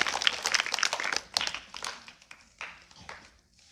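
Students in a government school quiz in Bihar burst into applause for a correct answer, a quick flurry of claps that thins out and fades within a few seconds.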